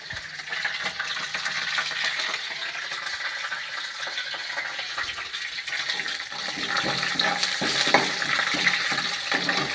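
Curry leaves sizzle and crackle in hot oil in a pan for ridge gourd stir-fry, a continuous, close frying hiss with scattered pops that swells slightly toward the end.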